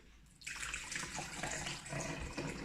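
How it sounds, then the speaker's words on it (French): Water pours steadily into a container while an Herbalife shake is prepared, starting after a brief quiet moment and running as a continuous close, bright splashing stream to the end. "On commence à environ à peu près 200 à 300 ml d'eau."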